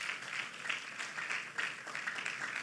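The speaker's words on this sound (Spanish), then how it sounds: "Dele un aplauso al Señor por lo que hace." Church congregation applauding in a large theatre, a steady wash of many hands clapping heard faint and distant.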